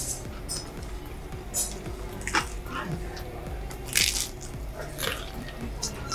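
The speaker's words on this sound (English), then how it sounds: "Listen to that crunch." Crisp pepperoni pizza being bitten and chewed, giving several sharp crunches spread across the clip over a background of low music.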